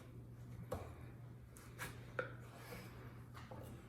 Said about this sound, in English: now cut your dices